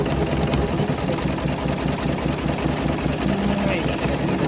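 A Janome Cutwork M8 sewing machine stitches a patch, its needle drive chattering in a steady, rapid mechanical rhythm close by for the whole stretch, loud and even with no pauses.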